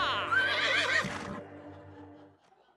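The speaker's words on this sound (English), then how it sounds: "I don't know what the horse was there for" A horse lets out a loud, close whinny that rises, wavers and fades out over a couple of seconds.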